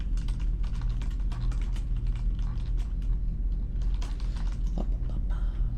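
Rapid, continuous clicking and tapping made with the mouth to imitate typing on a computer keyboard, close and intimate in an ASMR setting, steady and busy without pause.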